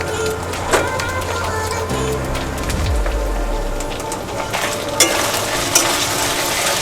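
Green chilli paste going into cabbage and fish head curry frying in a pan: a continuous sizzle with scattered clicks and taps of stirring, fairly close, with a brief low hum fading partway through.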